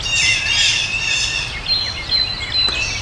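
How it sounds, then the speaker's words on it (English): Agitated birds squawk near their nest in Indiana woodland during a turkey hunt, a dense, loud chorus of harsh calls and shrill chirps that keeps going over steady outdoor background noise. "There's a lot of pissed off birds."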